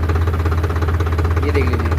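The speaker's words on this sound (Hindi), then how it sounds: "तो दोस्तों आवाज़ आपने सुन ली ट्रैक्टर की।" A Farmtrac 60 Worldmax tractor engine runs steadily with a low, rhythmic diesel chug, loud and close throughout the short stretch.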